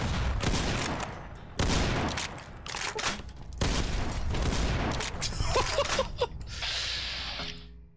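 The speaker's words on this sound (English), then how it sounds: "it's gonna have to be the sturdy caravan shotgun." Sturdy caravan shotgun fire in a Fallout video game, several loud, close blasts in quick bursts with booming tails, mechanical clicks of reloading between them, and a strong gunfight din throughout.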